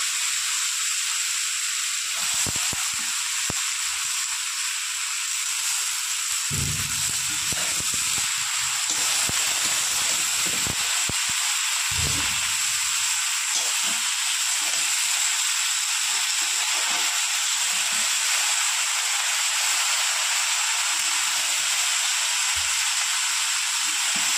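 Spinach and mixed vegetables sizzle in a hot pan with a steady, close, hissing fry, broken by a few soft stirring knocks, with no voices.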